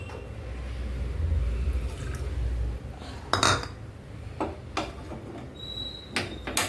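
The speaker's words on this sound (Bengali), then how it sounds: "যতটা চিনি দিয়েছি ততটাই জল দিয়ে দিচ্ছি।" Water pours in a low, steady stream onto sugar in a pot for syrup, followed by clinks of a utensil against the vessel and a few drips, all close by.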